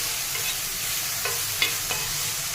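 Tomatoes roasting for a tomato and chili thecha, a continuous close sizzle in the pan broken by a few quick spatula scrapes as they are stirred, with no voices.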